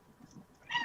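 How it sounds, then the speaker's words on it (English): A cat meows once near the end, a short, fairly loud call close by after a moment of quiet room sound, with no talk. "Cat noises."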